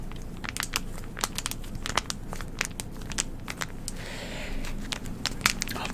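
Crinkling sounds come in short, sharp bursts of crackle at an irregular, unpredictable rhythm, close and fairly quiet over a low background rumble.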